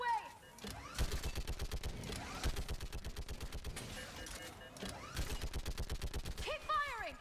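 Rapid bursts from a mounted gun in the Mass Effect video game hammer steadily and loudly throughout, with brief pauses and shouted voices plus sweeping whooshes layered over the repeating shots.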